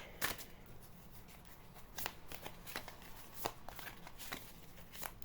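Tarot cards being shuffled by hand nearby, a series of quick riffling and slapping bursts in an irregular rhythm, heard alone without talk.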